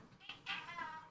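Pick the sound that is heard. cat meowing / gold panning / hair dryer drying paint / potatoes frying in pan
cat meowing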